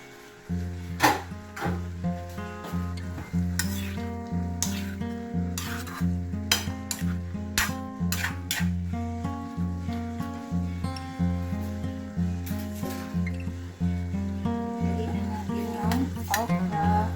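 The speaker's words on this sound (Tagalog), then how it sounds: "Lutuin muna po natin ang ating puso ng saging" Banana heart (puso ng saging) being stirred and cooked in a pan: steady scraping and clicking strokes with a light sizzle, continuing throughout under constant background music.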